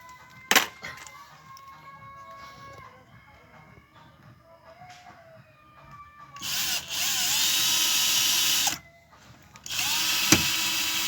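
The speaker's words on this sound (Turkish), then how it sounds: "Ondan sonra delme işlemine geçiyoruz." A power drill whirs loudly in two long bursts, drilling holes in a Hyundai car to mount a central locking motor, stopping briefly between them, after quieter clinks and scraping of tools; a voice speaks faintly early on.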